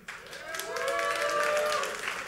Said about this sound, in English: Just round of applause here.